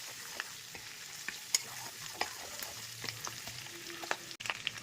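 Curry leaves frying in oil in a pan for a southern-style prawn dish, a faint continuous sizzle with scattered sharp crackles and pops, plus light stirring scrapes.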